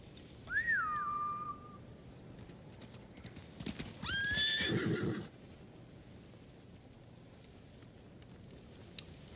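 Samurai horses in Ghost of Tsushima neigh and whinny twice, with hooves clip-clopping as they run off, fairly close then settling into quiet ambience.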